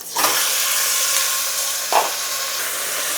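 Washed mutton hits browned onions in a pot with a sudden sizzle that settles into a steady frying hiss, interrupted by one sharp spoon scrape partway through.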